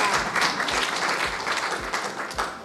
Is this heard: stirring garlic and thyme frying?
no